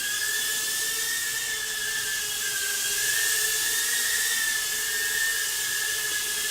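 A JJRC Redpawz mini drone in flight gives off a steady, high-pitched propeller whine that holds close and even throughout, with no talking.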